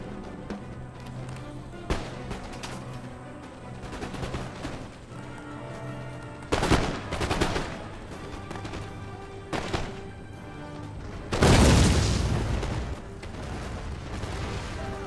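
Musket volleys crackle and boom across a Napoleonic-era battlefield in Empire Total War, with several scattered bursts and one heavy, sustained roar near the end.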